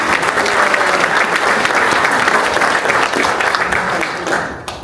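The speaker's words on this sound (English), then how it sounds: "let's give them a round of applause" Audience at a West Covina town hall breaks into steady, loud applause, a dense wash of clapping that holds for several seconds before thinning slightly at the end.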